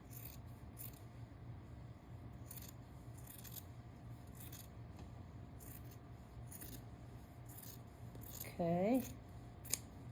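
Scissors snip through the fabric corner of a pillow with quick, close crisp cuts spread across the stretch. A short spoken word comes near the end.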